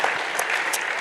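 Applause from an audience at a lobby day event, steady and dense clapping throughout a short one-second burst, filling the room without gaps.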